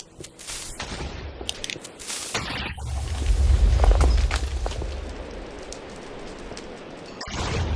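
Explosions set off in a bunker during a video game tutorial: scattered sharp bursts lead into a loud, deep rumbling blast that swells in the middle, then fades to a lingering low roar before one more burst at the end.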